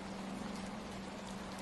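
Steady rain falls all around in a dense rainforest, a continuous soft hiss of drops on leaves with a faint low hum beneath, even and unbroken throughout.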